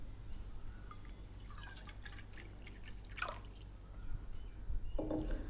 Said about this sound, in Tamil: 3/4 கப் தண்ணி சேர்க்கணும்.